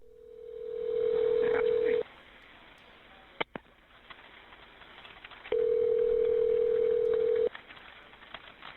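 An outgoing telephone call rings back with two long, steady tones of about two seconds each, separated by a gap with a couple of sharp clicks and low background noise.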